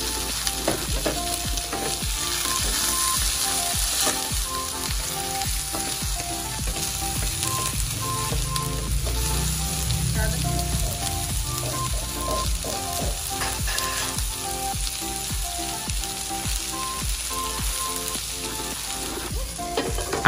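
Potato pieces sizzle and fry steadily in a pan for a chicken afritada, a dense continuous crackle with occasional stirring scrapes, close and fairly loud throughout with no talking.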